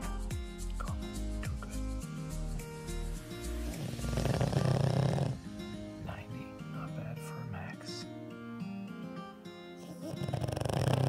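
A pug dog snores loudly in rough, rasping swells that rise and fall over several seconds, mixed in with prominent background music.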